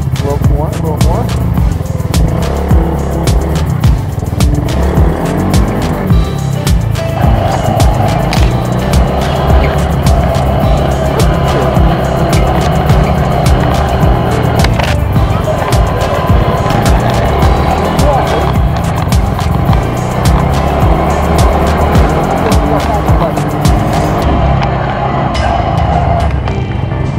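A Polaris RZR 170 side-by-side drives continuously with a loud steady engine drone and rumbling tire and terrain noise, heard close from onboard, with voices talking over it.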